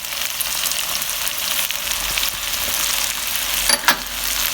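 Turmeric, paprika and cumin powders fry in hot oil in a pan for a Punjabi aloo methi, a steady close sizzle with a few scraping stirs near the end, no talking.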